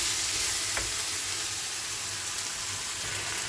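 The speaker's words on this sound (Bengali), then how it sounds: "আর একদিকে কুমড়ো আর উচ্ছে ভাজাটা হচ্ছে আমার" Pumpkin and bitter gourd fry in a pan with a continuous, close sizzling hiss, a faint stir or knock now and then.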